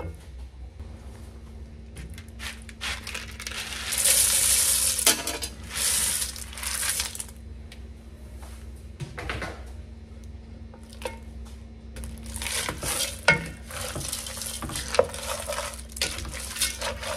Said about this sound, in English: let me wash my beans real quick